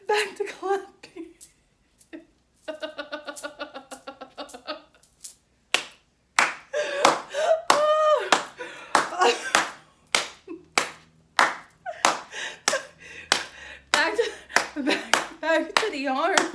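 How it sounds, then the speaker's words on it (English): Hands clap steadily in a laughing yoga session, with a long run of close, sharp claps in a loose rhythm. Chuckles and laughing voices come through between the claps. "And back to clapping."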